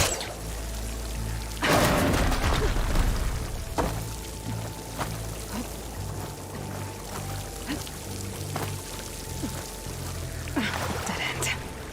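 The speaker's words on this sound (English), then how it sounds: "Water's coming from that vent." Water gushing from a vent in a video game, a continuous pouring rush with a louder surge early on, underscored by low game music tones and occasional thuds.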